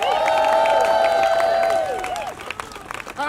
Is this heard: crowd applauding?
yes